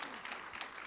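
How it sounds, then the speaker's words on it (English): A panel discussion audience gives a brief round of applause for the panelists, a dense wash of clapping filling the short moment. "Can we just get a quick round of applause for our amazing panelists?"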